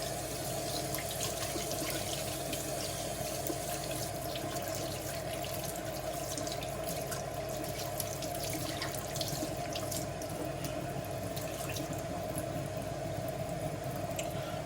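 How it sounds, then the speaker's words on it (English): Tap water runs steadily into a sink while cleaning paint brushes, a constant splashing rush without pause. "Turn that water down so it's not blasting all over me."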